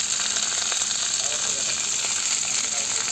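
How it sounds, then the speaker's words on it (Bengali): Chopped winter vegetables sizzling in a pot with turmeric and spices for Bengali khichuri, a continuous hissing fry with faint stirring scrapes, a voice talking softly underneath. "সবজিটা দিয়ে একটু কিছুক্ষণ নেড়ে নেব"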